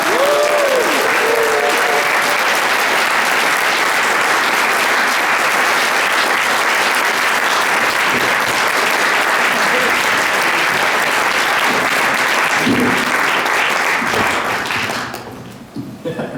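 A large audience at a bass guitar show applauds loudly and continuously, a dense sustained wall of clapping that fades out near the end.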